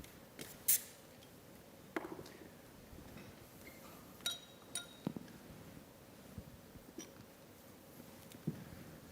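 Wine glasses set out at a sommelier competition final, with sparse delicate clinks and taps of glass spread across a quiet room, some sharp and some faint.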